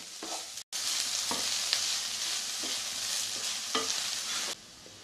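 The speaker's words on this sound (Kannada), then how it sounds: "ಕ್ಯಾಪ್ಸಿಕಮ್ ಹಾಕಿದ್ಮೇಲೆ ಇನ್ನೊಂದು ನಿಮಿಷ ಹುರಿಯೋಣ." Onion and capsicum fry in a pan with a steady, close sizzle, broken by a few stirring scrapes and one brief gap before the hiss fades at the end.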